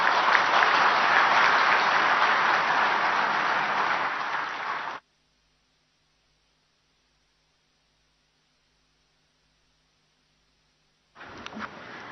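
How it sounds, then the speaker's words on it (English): Loud, dense audience applause at the opening ceremony of the 25th ICID irrigation and drainage congress plenary in a hotel hall, a steady roar of clapping for about five seconds that cuts to silence, then clapping resumes briefly near the end. "Can we have a huge round of applause for the Honorable Chief Minister, sir?"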